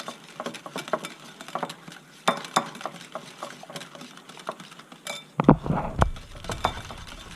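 Donair sauce being mixed by hand in a bowl, with close, irregular clinks and scrapes of a utensil against the bowl coming in bursts, growing busier and louder near the end.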